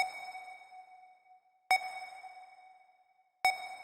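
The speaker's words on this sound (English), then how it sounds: "you can hear that beep sound, and it is just like a square wave beep" Three short electronic beeps spaced evenly apart, each a bright buzzy square-wave tone that rings out and fades slowly into reverb.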